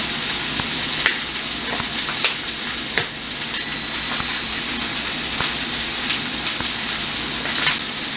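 Cabbage and vegetables with chili powder and cumin fry in a pan, giving a loud, continuous sizzle with scattered pops and occasional stirring scrapes close by.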